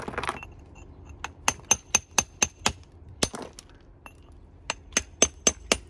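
Hammer striking a chisel into rock while fossil hunting: a series of sharp metallic clinks in a steady rhythm, close and clear, with brief pauses between runs of blows.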